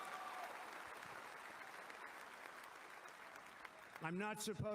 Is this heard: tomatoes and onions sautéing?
no